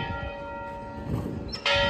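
A church bell rings in a small, picturesque town on the Spanish coast, its sustained tones hanging in the air before a louder, brighter strike lands near the end.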